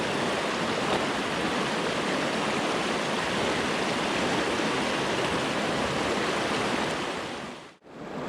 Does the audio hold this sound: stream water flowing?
yes